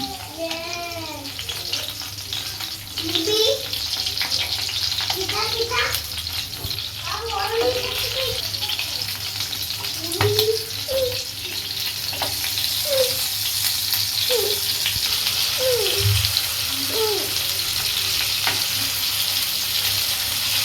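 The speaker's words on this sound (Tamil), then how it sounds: "மீடியம் ஃப்ளேமில் வச்சு நல்லா பொறிச்சு எடுத்துக்கலாம்" Chicken pieces frying in oil over a medium flame give a continuous loud sizzle and hiss, with occasional faint chirp-like tones in the background.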